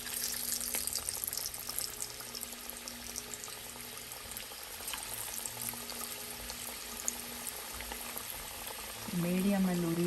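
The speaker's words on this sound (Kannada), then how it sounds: "ಸೊ ಈಗ ಒಂದೊಂದೇ ಇದರ ಆಯಿಲಲ್ಲಿ ಫ್ರೈ ಮಾಡೋಣ." Chicken wing kebabs fry in hot oil over a medium flame, a steady dense sizzle holding throughout, with a louder bubbling swell near the end as more pieces go in.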